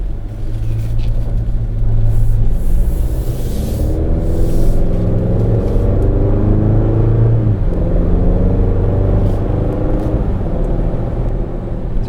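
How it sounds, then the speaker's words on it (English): Chevy Colorado ZR2 truck with a 2.7 turbo inline-four pulling away hard from a stop, a loud steady engine drone and rumble that rises in pitch through the run, heard from inside with no talk. "Let's see what kind of pop this thing has off the line."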